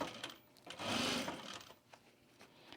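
A sewing machine stitches binding around a travel bag corner, running in short close bursts with a longer steady whir in the middle and gentle pauses as the fabric is eased through.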